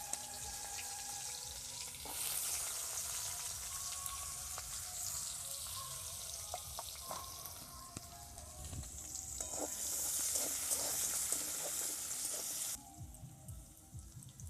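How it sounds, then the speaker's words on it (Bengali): Carrots dropped into hot oil for a vegetable dal, a sudden loud sizzle that settles into a steady bright hiss, with occasional stirring clinks and a drop in intensity near the end. "গাজরটা যেহেতু একটু শক্ত, এই জন্য আগে আমি তেলে দিয়ে দিচ্ছি গাজরটাকে"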